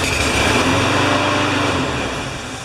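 Kohler engine on a lawn mower running at a loud, steady buzzing drone up close, tapering slightly toward the end.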